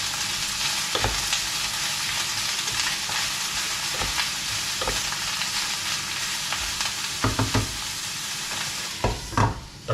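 Vegetables stir-fry in a pan with a steady loud sizzle close by, broken by repeated scraping and clattering strokes as they are tossed, growing busier toward the end.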